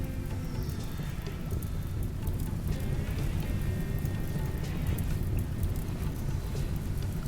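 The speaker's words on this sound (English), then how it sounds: "Well, at least it's raining." Steady rain in the RimWorld colony game, a dense continuous hiss and patter of drops at even level, with no talk.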